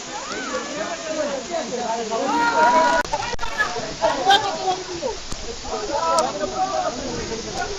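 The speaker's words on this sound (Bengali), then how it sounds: "সবাই শুনতে পাচ্ছেন ঝর্ণার গর্জন কি পরিমাণ ঝর্ণার পানি প্রবাহিত হচ্ছে" Shuvolong waterfall on Kaptai Lake in Rangamati roars as a steady, broad rush of falling water, with a person talking over it throughout.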